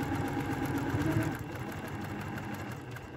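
A sewing machine stitches a fabric potholder, a close, steady mechanical whir with a rapid needle rhythm that eases slightly toward the end.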